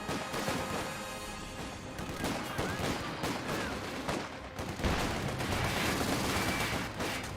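A Company of Heroes 2 battle with an AEC armored car cannon and mortars firing brings dense, continuous gunfire and repeated explosive booms, loud and layered, with a voice faintly underneath.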